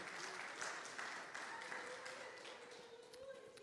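A congregation at a Brazilian church service gives Jesus a strong round of applause, dense steady clapping from a crowd filling the room, with a faint sustained tone from a keyboard or voice underneath.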